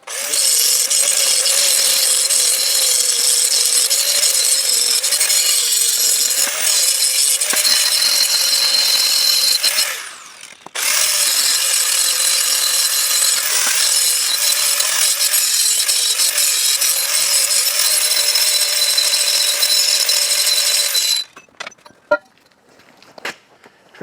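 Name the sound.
grinding steel pieces for welding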